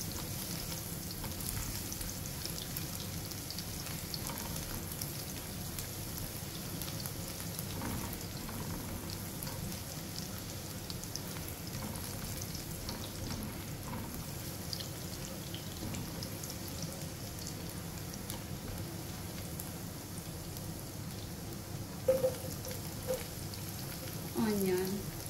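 Garlic fries in a pan with a steady, soft sizzle and crackle that holds throughout, quiet and close, with a faint clink or two of a utensil near the end.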